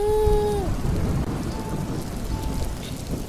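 Steady, heavy rain hissing and pattering continuously, with a brief tonal whine fading out near the start.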